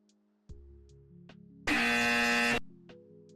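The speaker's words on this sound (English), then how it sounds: "Sorry for the incorrect buzzer sound, there's no correct buzzer for me." A harsh, flat electronic buzzer blares for about a second, loud and sustained, between quieter tonal sounds.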